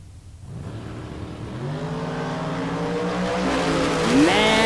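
A Chevy II drag car launches at a bracket drag race, its engine building from quiet into a loud, climbing roar with stacked rising harmonics and a sharp upward sweep near the end.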